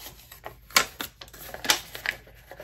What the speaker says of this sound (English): I'm gonna fold these two edges over like this, fold it right back on itself.